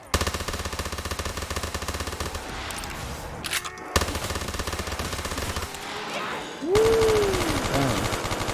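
Death Machine minigun in Black Ops 3 Zombies, fired in long continuous bursts of rapid, rattling shots, loud and close, with a short pause and a rising whine as it spins back up.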